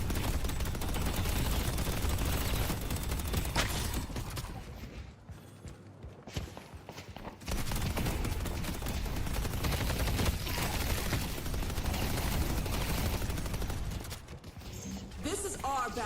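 Turret gunfire in World of Warcraft crackles as dense continuous bursts within a loud, busy game mix, with a brief drop-out midway before the barrage resumes.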